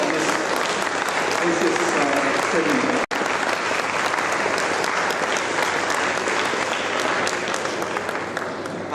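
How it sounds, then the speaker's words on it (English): An audience at an international seminar on the MSME sector applauds steadily for nearly nine seconds, a thick, even clapping that briefly cuts out once. A voice speaks over the clapping. "I will be appealing to the audience to give a big applause to Dr. Abdul Jamal"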